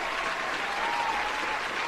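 Audience applause on a podcast, a steady, even wash of clapping filling the short moment without any voices.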